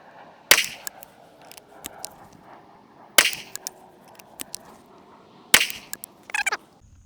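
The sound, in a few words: gunshots from Rossi Poly Tuffy rifle, 410 bore/45 Colt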